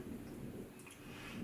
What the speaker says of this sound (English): I've got a little thunder in the background.